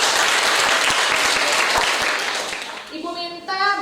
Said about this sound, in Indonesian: Oke, yuk kasih tepuk tangan.